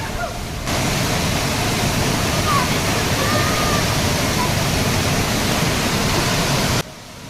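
The Urmodi river rushes after water is released from the dam, a loud, steady roar of flowing water up close, dropping slightly at the end.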